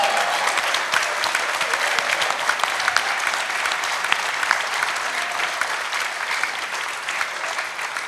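Dense, sustained applause from a room of People Power Party lawmakers at a 22nd National Assembly workshop, steady and loud throughout with scattered sharper claps.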